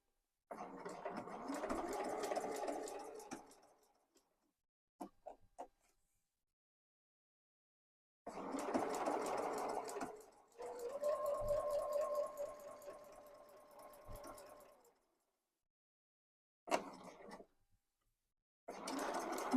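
A sewing machine stitches a neckline facing with a collar, finishing with a reverse stitch. It runs in several separate bursts of steady mechanical whirring, with quiet gaps between them.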